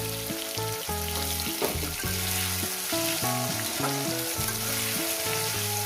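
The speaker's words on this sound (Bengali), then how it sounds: "নতুন আলু আমি এক দেড় মিনিট আমি ভেজে নেব" New potatoes fry in hot oil, giving a loud, steady sizzle close up with faint bubbling crackle and no voices.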